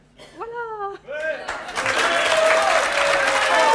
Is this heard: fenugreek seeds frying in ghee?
no